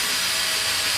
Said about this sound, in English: We need to drill a hole through the greebly hole into the tank where the rivet's gonna come out.